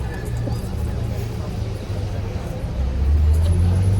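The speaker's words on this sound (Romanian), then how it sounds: "Luăm autobuzul până în centru, autobuzul 8." Interior of city bus route 8 in Chișinău, Moldova: a steady low engine rumble and road noise fill the ride, swelling louder toward the end, with faint background chatter of passengers.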